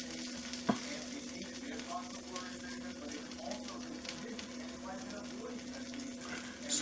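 A Reuben sandwich cooks in a pan with melting cheese, giving a steady, moderate sizzle and frying hiss that runs throughout, with a brief sharp knock near the start and light stirring noises.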